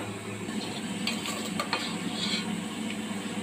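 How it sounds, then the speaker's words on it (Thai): Black chilies dry-roasting in a pan, close and fairly loud, with a constant dry rustle and crackle and a few metallic scrapes and taps of stirring, no talking. "จากนั้นก็คั่วพริกดำ"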